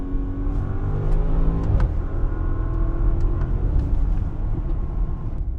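A 2019 Bentley Bentayga V8 in sport mode with an 8-speed ZF transmission: a steady, close engine rumble with a slight shift in pitch partway through, carrying on without any talking.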